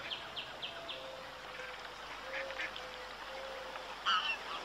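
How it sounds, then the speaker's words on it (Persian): Faint quacking from ducks on a pond comes in short clusters at the start and near the end, far off under steady background noise, with no voices. "این طرف دست چپ یه برکه آب پر از مرغابی."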